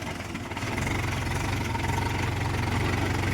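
A Mahindra Yuvo 575 tractor engine running steadily at close range, a low rumbling drone with a rhythmic chug that settles into an even level after a brief rise.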